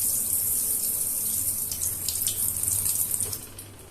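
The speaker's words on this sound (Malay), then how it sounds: "air dah mula masuk ke dalam spring" Water flowing into an eSpring water treatment system at a fitting, a steady close hiss and gush of running water, continuous and fairly loud with no talking.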